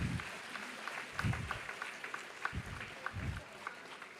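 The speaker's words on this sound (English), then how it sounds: "A big applause, please, students." Students applauding at a knowledge and talent acquisition summit, a faint, thin patter of clapping with low thumps throughout, distant and fairly quiet in a large room.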